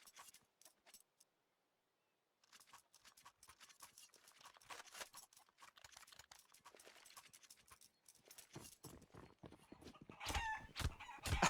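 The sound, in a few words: chicken clucking in video game Counter-Strike, Inferno map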